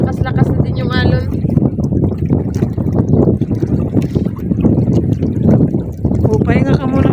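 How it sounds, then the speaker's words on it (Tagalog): Strong sea waves and wind around a small fishing boat out squid fishing, a loud, steady wash and rumble close by, with a voice talking over it at times. "Tsaka naglakas-lakas na din yung alon."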